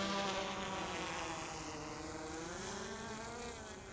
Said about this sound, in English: I love this drone.